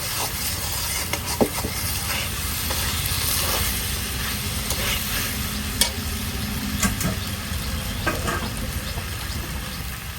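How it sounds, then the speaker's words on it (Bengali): A spice masala with jackfruit and potato for a prawn curry sautés in a pan with a constant sizzling hiss, overlaid by rhythmic stirring scrapes and occasional spoon taps; no speech. "এখন ভালো করে কষিয়ে নিতে হবে।"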